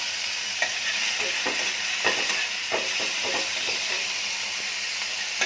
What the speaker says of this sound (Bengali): এখানে সর্ষের তেল গরম হয়ে গেছে, চিংড়ি মাছটা দিয়ে দেবো